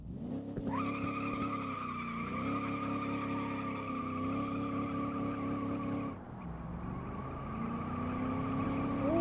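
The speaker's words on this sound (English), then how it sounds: "on second gear this thing spins wheels" Simulated engine of a 1970s Soviet car in the game Automation revs hard while its wheels spin on second gear, a steady loud drone with shifting pitch and a brief dip before climbing again, no talking.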